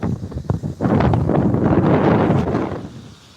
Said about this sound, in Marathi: वारं सुटला आहे वारं भरपूर सुटलं